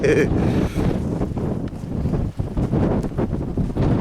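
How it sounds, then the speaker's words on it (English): Wind gusts buffet a pitched tent high on a Lake District fell, roaring and rumbling close to the microphone in uneven surges for the whole stretch, with someone talking briefly over it. "Wind is 10-15 miles an hour, maybe 20 k."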